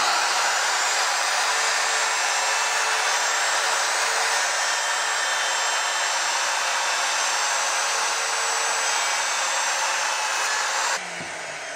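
Router running steadily while cutting wood on a Porter Cable dovetail jig during a light horizontal pass, a loud, continuous high whine that stays constant for several seconds and then drops in level near the end.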